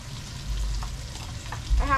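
Masala, curry powder, pepper, ground garlic and onion frying in hot oil for Guyanese gilbaka curry, a short close burst of steady sizzling with a light stirring scrape, no talking.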